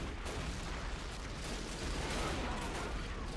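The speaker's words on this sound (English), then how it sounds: "From the Confederate artillery right now shelling this left side group and some of the other infantrymen up on the walls" Confederate artillery shells a wall position in a Battle of Washington D.C. Civil War game, a dense, distant-sounding barrage of rumbling blasts and crackling fire blending into a continuous roar.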